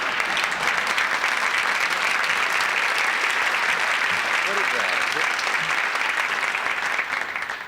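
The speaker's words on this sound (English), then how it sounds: "You're applauding for glassy eyes?" A television studio audience breaks into loud, sustained applause, a dense wash of clapping that runs the whole time and fades slightly at the end, while a voice speaks briefly over it.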